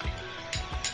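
Finely chopped tomato fries with browned onion in a hot pan, a steady hiss of sizzling with a few brief crackling flares, close and unbroken by talk.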